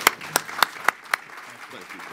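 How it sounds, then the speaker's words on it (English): At a high-speed rail summit, five distinct claps land at an even, brisk pace as Congressman Bill Shuster is welcomed, fading into a quieter room with faint murmuring. "Let's give Chairman of the Subcommittee of Rail a great round of applause,"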